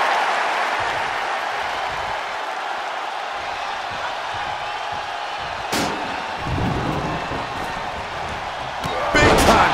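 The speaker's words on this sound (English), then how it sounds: "Big time clothesline." Crowd roar from the WWE 2K23 video game during a Kane versus Stone Cold wrestling match, a steady wash of cheering with a sharp slam of a clothesline impact midway and a louder swell near the end.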